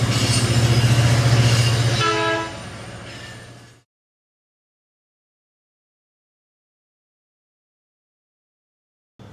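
Train passing close by, a loud low horn-like drone with rumbling wheels and a brief higher horn tone before the sound cuts off abruptly to silence.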